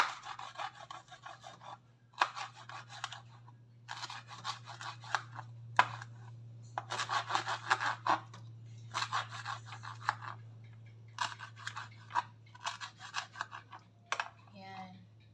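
A knife slicing a bell pepper on a cutting board, with bursts of short crisp cuts in several rapid runs, separated by brief pauses, over a low steady hum in a home kitchen.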